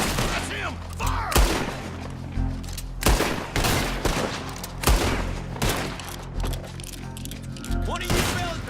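Gunfire rings out in a town shootout in Red Dead Redemption 2, a rapid series of sharp, loud shots with booming echoes, with shouting voices in between.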